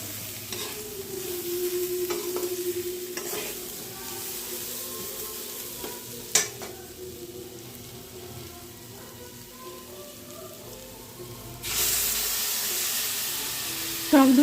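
Whisked sour yogurt stirred into spiced potato masala frying in a pan for a Bengali vegetarian jackfruit curry, giving a steady sizzle with scraping stirs, one sharp clank midway and a louder hiss near the end.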